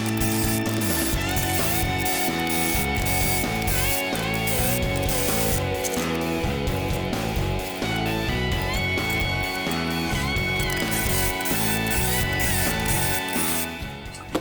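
A ratcheting wrench tightens beadlock bolts on a Humvee wheel, giving loud, fast, continuous ratchet clicking close up over a metallic mechanical drone, with no talk.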